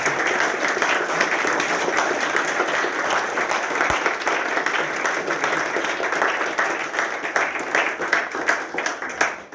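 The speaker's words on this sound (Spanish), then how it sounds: "pedirles unas fuertes palmas primero para Luis Francisco Palomino." Warm applause from a seated audience at a book launch evening, a steady wash of many hands clapping close and loud for several seconds before tapering off at the end.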